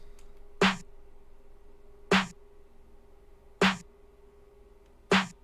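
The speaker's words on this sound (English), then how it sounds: "Then we got the snare," Snare drum sample from a trap beat, struck four times alone at an even, slow spacing, each hit a crisp, loud crack with a short tail.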